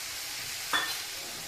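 Mustard spice paste for a fish curry with potato and brinjal hits hot oil in a pan, a steady broadband sizzle with a brief louder burst as it goes in, then settling back to an even fry.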